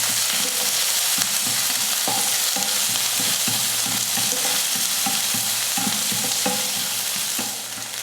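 Mustard seeds, urad dal, curry leaves and chopped onion fry in hot oil for a sambar meal, a loud continuous sizzle close up with frequent scraping stirs of the spoon against the pan.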